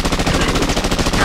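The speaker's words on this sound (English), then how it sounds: "Otacon, big robot shooting at me." A giant robot's machine gun in the video game Modern Warfare 2 fires a rapid, continuous burst of loud, evenly spaced shots.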